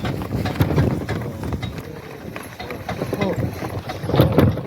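Steady clip-clop of draft horse hooves on a road with a rolling cart behind, voices talking intermittently over the rhythmic plodding.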